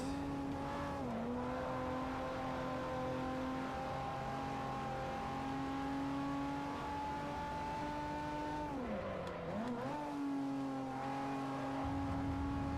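Racing car engine from Forza Motorsport 4 holding a steady hum that dips twice as the revs drop and climb through corners, played without talk at a constant moderate level.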